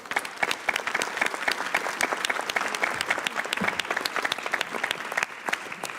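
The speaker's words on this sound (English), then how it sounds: "Please join me in a round of applause." Audience applause at a conference session on skills and labour market integration, a steady dense clapping from a large crowd lasting throughout, loud and close, with no talk over it.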